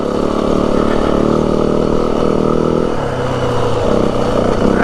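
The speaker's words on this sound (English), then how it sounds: "I like to try and keep the momentum on this bike, keep it in second." A 2025 Yamaha WR 450F dirt bike held in second gear on a trail ride through the Santa Rita mountains, its engine droning loud and steady up close, with a small dip and change of pitch near the end as it climbs.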